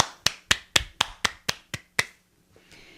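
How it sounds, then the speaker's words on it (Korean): Eight sharp, evenly spaced hand claps, close and clear, followed by a short quiet tail, as a Korean art talk welcomes the artist Andrea Fraser. "박수로 맞아주세요"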